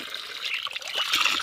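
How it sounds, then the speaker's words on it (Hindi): Cold water trickles and splashes steadily from a village spring spout as a vessel is filled, a close, continuous gurgling flow with no voices. "यहाँ पे धारे पे धो के ले जाते हैं हाथ में, और ठंडा ठंडा सा पानी भर के ले जाते हैं"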